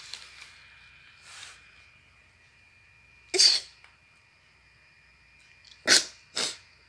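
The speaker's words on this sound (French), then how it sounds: "J'éternue vraiment très bizarrement" Three sharp sneezes from a person at home playing The Sims, an odd-sounding one around the middle and two quick ones close together near the end, loud and close over a quiet room.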